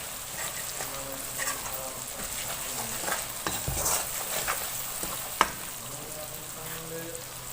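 Tomatoes and a pinch of salt sizzle in a pan for sesame chicken, a steady broadband frying hiss with occasional stirring scrapes and one sharp clink near the end, close and moderately loud, with no talking.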